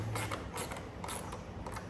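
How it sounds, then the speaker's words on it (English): Fasteners being tightened on a BMW 435i smoked taillight, giving a run of close mechanical clicks and ratcheting creaks in a quick rhythm, with no talking. "Now let's go ahead and finish tightening these."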